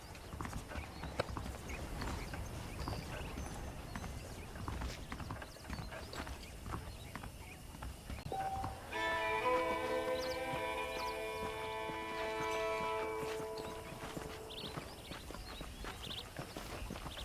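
Steady clip-clop of horse hooves walking at an even pace in Red Dead Redemption, with a bright mechanical jingle rising over them midway.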